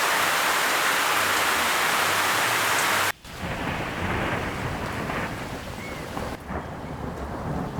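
Heavy rain pours outside a house with rolling thunder, a loud steady downpour that cuts abruptly and resumes as softer continuous rain on surfaces.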